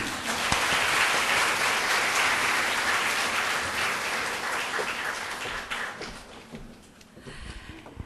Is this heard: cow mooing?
no